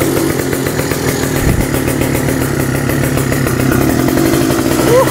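An old two-stroke Kawasaki Ninja motorcycle, started after sitting unused for two months and smoking heavily, runs with a loud, close, ragged buzzing engine note that holds steady throughout.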